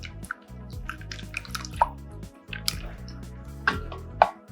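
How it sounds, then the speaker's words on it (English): Cream poured into melted butter in a medium saucepan for a bourbon caramel sauce makes soft dripping, splashing liquid sounds over steady background music. "and then you're gonna add in cream"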